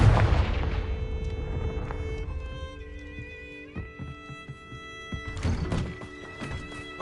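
Confringo fire spell cast in a Harry Potter video game on PS4, a heavy thumping blast followed by ringing, shimmering magical tones and clattering impacts, loud and close with decaying resonances.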